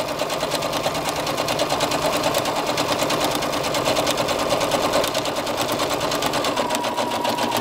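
A sewing machine stitches diagonal quilting lines with gray top thread and black bobbin thread, a fast, steady mechanical rattle running continuously up close.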